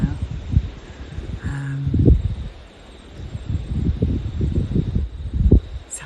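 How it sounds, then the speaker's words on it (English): Leaves of tall trees in an Australian garden rustle and shimmer as the branches sway in the breeze, soft rushing swells rising and falling with wind buffeting the microphone. "sounds like they're talking to each other as the leaves all shimmer together and make the most glorious sounds"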